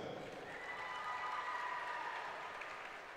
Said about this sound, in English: a big round of applause, her effort tonight